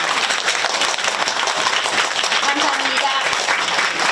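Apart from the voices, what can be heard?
audience applause welcoming a guest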